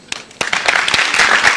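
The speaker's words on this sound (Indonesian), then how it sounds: "Terima kasih, tepuk tangan dulu." Studio audience on an Indonesian health talk show breaks into a short burst of applause, a bright wash of clapping building quickly and filling the room for under two seconds.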